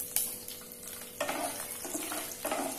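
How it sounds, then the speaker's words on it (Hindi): Whole spices such as bay leaf, cloves, black pepper, cardamom, cinnamon and dried chillies fry in hot oil for a chicken korma. The sizzle is soft and is broken by a few louder stirring scrapes. "इसे हल्का सा फ्राई करेंगे।"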